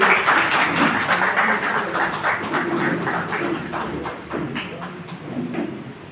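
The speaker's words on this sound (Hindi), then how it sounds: "तालियां बजती रहनी चाहिए।" An audience at a Hindi Diwas poetry gathering applauds during a memento presentation, its fairly dense clapping gradually thinning and fading while a voice speaks over part of it.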